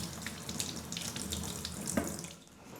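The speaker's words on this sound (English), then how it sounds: "We're just going to wash it off." Kitchen tap water runs over fresh ginger being washed, a close, continuous splashing hiss with small shifts in tone as the root is turned under the stream.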